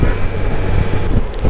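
Strong wind on a blustery day near Vesuvius and Torre del Greco, a steady loud roar buffeting the microphone with low rumbling gusts and no speech.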